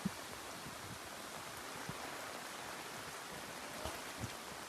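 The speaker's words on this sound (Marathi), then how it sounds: "पाऊस कंटिन्यू पडतोय" Continuous rain falls steadily during a village flood, a dense, even hiss with a few soft drip taps, heard alone and fairly faint without any talking.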